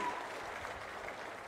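Faint, brief crowd applause at a farmers' land passbook distribution event addressed by the chief minister: a steady wash of distant clapping lasting just over a second.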